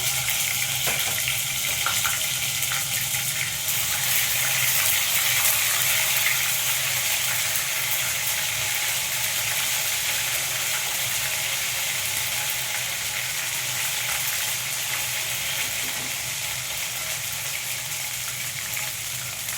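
Ginger garlic paste dropped into hot whole spices for a mutton kofta curry sizzles and hisses evenly in the pan, a continuous bright frying sound with no talking.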